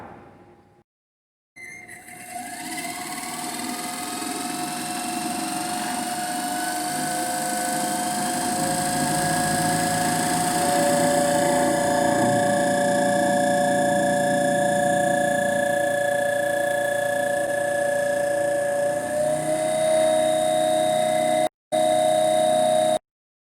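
A DC motor runs at roughly 2000 RPM in a generator test rig, a steady tonal whine with a faint harmonic hum that holds for about twenty seconds after a brief silence, ending in a short gap.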